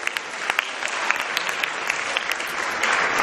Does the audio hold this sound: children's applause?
yes